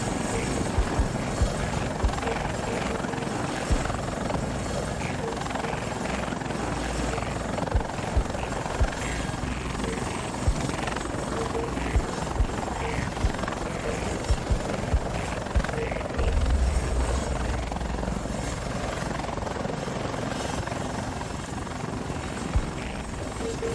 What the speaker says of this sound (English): With the winch load heavier, the helicopter's downdraft is fiercer.